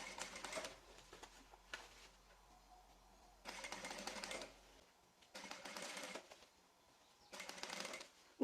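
A sewing machine stitches fabric binding around a zippered piece in short bursts of rapid, buzzing stitching separated by quiet pauses, close and fairly soft.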